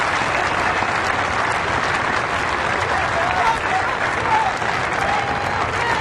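A golf gallery at the Travelers Championship applauds steadily, dense clapping from a large crowd holding at an even, loud level for the whole stretch with no break.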